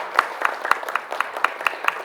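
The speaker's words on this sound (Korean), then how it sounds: "두 분께도 감사 박수 해주시면 감사하겠습니다" Audience at a church ceremony claps in a sparse, rhythmic pattern, a handful of distinct, fairly close hand claps in quick succession rather than a full roar.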